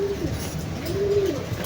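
Racing pigeons coo in two soft, drawn-out phrases, fairly close and clear over a low background murmur, with no talking.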